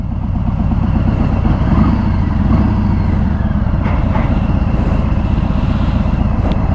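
A black 2018 Harley-Davidson Fat Bob on the move, its engine a steady, loud low rumble with wind noise throughout, close and continuous with no pauses.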